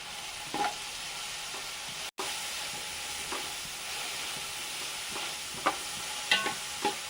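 Two sliced onions frying in a pan for a country-style chicken curry, a steady soft sizzling hiss with occasional faint stirring scrapes and clicks.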